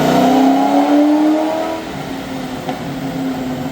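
A 2003 Ford SVT Cobra on a dyno, its engine loud and close as a sharp throttle blip climbs in pitch, then settles back toward a rough idle.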